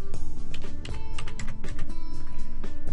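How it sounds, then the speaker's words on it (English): Rapid typing on a computer keyboard while entering a first and last name, a steady stream of close keystroke clicks over a constant louder background hum. "type in your first and last name"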